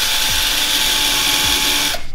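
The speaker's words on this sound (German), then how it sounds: "dass ihr erst mit dem Bohrer vorbohrt" A power drill pre-drills screw holes into wood panelling for a DIY campervan wall, its steady high whine running loud and close with small pitch sweeps, then cutting off abruptly near the end.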